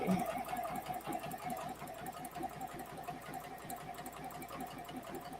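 A sewing machine runs steadily, stitching fabric pieces together in one continuous close-up stretch with a fast, even needle rhythm and no talking.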